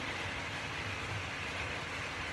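A steady, even rumble and hiss of a model railway locomotive running continuously nearby, with no distinct clicks or voices.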